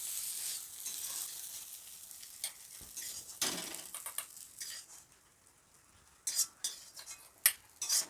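A spice masala being fried and stirred in a pan for a stuffed sweet filling, with steady sizzling and scraping, bursts of clinking utensil strokes against the pan, no talk.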